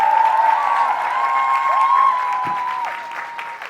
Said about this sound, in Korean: 큰 박수로 쳐주시길 바습니다